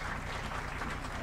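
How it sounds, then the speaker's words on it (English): Audience at a moot court prize distribution ceremony applauding, a dense, even wash of many hands clapping heard from within the hall, brief and continuous. "Ladies and gentlemen, a huge round of applause for them."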